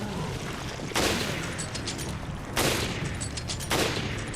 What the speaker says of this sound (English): here I practically just spam shooting them